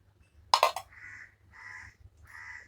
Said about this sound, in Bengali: কাক ডাকছে, কাকের আওয়াজ হচ্ছে।